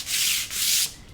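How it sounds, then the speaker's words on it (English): Two smooth, steady strokes of a sanding block rub lightly across a painted project surface, close and loud, with a short pause between them and no voices. "we're going to use our sanding block and we're going to just give it a light little sand"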